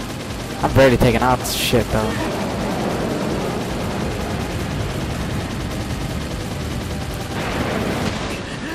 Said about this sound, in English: Good thing this is like a machine gun.